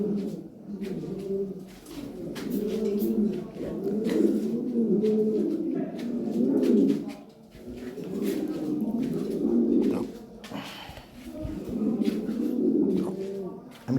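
European racing pigeons coo repeatedly in soft, throaty rolling phrases, close and continuous, with faint background noise and occasional distant voices.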